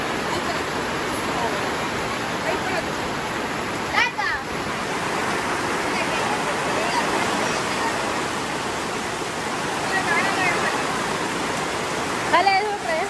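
Heavy rain pours steadily in a downpour, a dense, loud, continuous roar of falling water that fills the whole stretch, with faint voices briefly audible beneath it.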